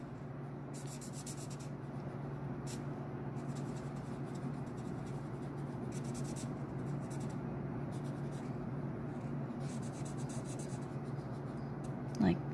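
A marker colors repeated lines onto a handmade card, giving short bursts of soft scratchy strokes in an irregular rhythm, close and quiet over a low steady background hum.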